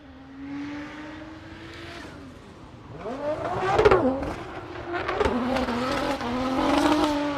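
A Nissan S14 drift car at a Formula Drift Pro2 competition in Atlanta revs hard across the course, its engine note rising and falling through the throttle stabs with tire squeal, heard loud and fairly close.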